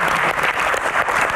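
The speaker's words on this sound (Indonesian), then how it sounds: "Dan teman-teman tepuk tangan" A studio audience claps in a brief, steady burst of applause that carries on evenly with no voices over it.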